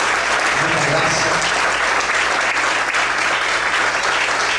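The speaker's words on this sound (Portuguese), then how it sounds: "Vamos aplaudir ao Senhor com muita alegria, muita graça." A church congregation claps loudly and steadily during a worship service, a dense and continuous wall of applause close by with no break.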